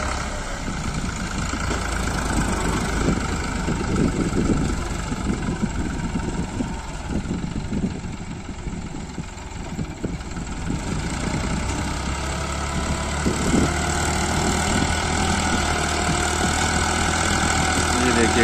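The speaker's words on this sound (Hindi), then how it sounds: "काफी बड़ा ट्रैक्टर है ये।" A 55 hp New Holland 5500 tractor pulling a blade plough to prepare a paddy field runs with a loud, steady engine roar that continues unbroken throughout.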